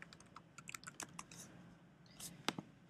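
Code being entered on a computer keyboard, with light, irregular key clicks in short bursts and pauses, heard fairly close but faint.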